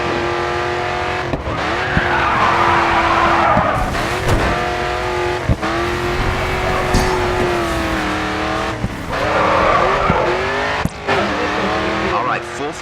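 A race car at full throttle in the GRID 2 racing game, its engine roaring steadily and loudly with squealing, skidding tires and occasional sharp clicks, while a voice talks over it.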